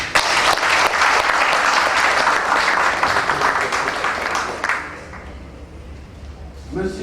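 Guests at a wedding ceremony break into loud, dense applause that rolls on for several seconds, then fades to a murmur with a few scattered claps.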